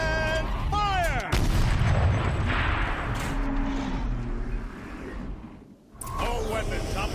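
Machine turret firing in Horizon Zero Dawn, a loud burst of heavy gunfire and rumbling blasts that follows a spoken line and continues for several seconds, with more voices returning near the end.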